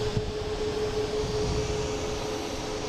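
An Alaska Airlines aircraft coming in at Boston Logan gives a steady, moderate engine rumble with a faint constant tone, heard alone for a few seconds.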